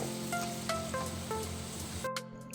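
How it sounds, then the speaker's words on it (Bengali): Ginger and garlic paste fries with onions in a pan, a soft continuous sizzle with a few light clinks of a spoon against the pan and no voices. "এখন এই আদা রসুনটাকে পেঁয়াজের সঙ্গে এক দু মিনিট ভেজে নেব"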